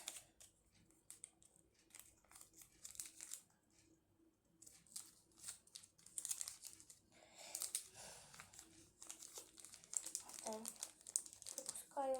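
A plastic bag rustles and crinkles close by in intermittent bursts, with soft handling noises between them and no talking.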